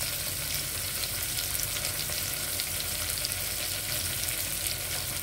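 Three big chopped onions sautéing in a pan for meal maker biryani give a dense, even, close sizzle that holds steady throughout, with faint stirring and no talk.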